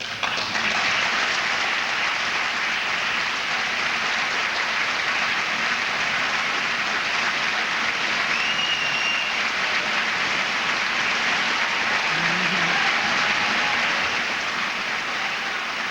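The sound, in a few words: audience applauding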